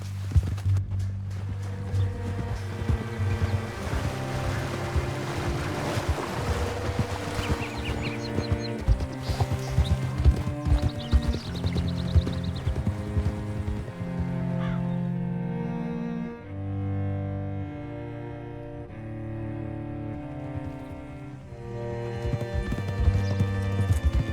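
Horse hooves clop in a steady trotting rhythm in Red Dead Redemption 2, layered over game music that plays throughout.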